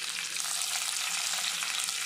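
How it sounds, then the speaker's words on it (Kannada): Curry leaves frying in hot oil in a pan for a raw banana palya, giving a steady, close, continuous bright sizzle with no talk. "ಬೇವು ಸೊಪ್ಪುಲ ಒಂತೆ ಫ್ರೈ ಆವಡು"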